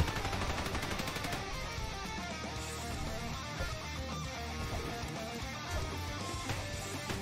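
Rapid turret gunfire in the top-down shooter mining roguelike Repetendium, a dense continuous stream of synthetic shots over layered game music and effects, steady and fairly quiet throughout.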